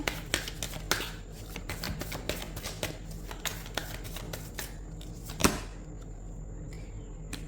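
Tarot cards shuffled and drawn at close range, a run of quick crisp snaps and flicks with one sharper slap near the end, followed by a quieter pause.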